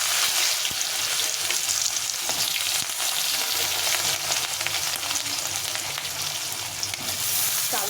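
Potatoes fry in hot oil with dried red chili and black cumin, giving a steady, loud, dense sizzle that runs unbroken from start to finish, with faint stirring scrapes now and then.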